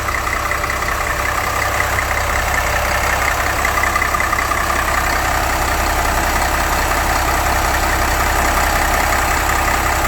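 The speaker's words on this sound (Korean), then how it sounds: "엔진입니다. 엔진 소리 아주 조용합니다." A Hyundai Green City bus diesel engine idles steadily and loudly, a continuous low rumble with a faint rhythmic knock and no change in pace throughout.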